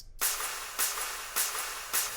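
Four thin, bright, EQ'd future bass snare hits land at a steady pace, each followed by a long, washy plate reverb tail that fills the gaps.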